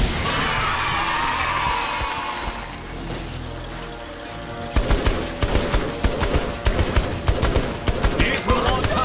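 Rapid bursts of gunfire ring out in the Saints Row 3 Genkibowl shooting contest, starting after a stretch of game noise and then cracking repeatedly at close range, loud and dense in a fast rhythm.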